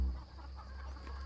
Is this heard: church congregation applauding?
no